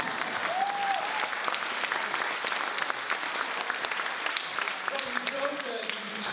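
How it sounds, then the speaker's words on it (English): Audience applause at a literary reading by author Andre Dubus III, a dense, steady wash of clapping from a room full of people lasting several seconds, with a brief voice faintly audible early on. "Round of applause for beautiful Wally Lamb."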